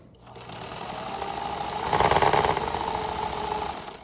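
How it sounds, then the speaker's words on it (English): A sewing machine runs steadily, edge stitching along a fabric strap for a hospital gown, its motor hum and rapid needle rhythm continuous and close, swelling slightly louder midway before easing off, with no voices. "Just keep sewing all the way to the end, edge stitching and shutting it."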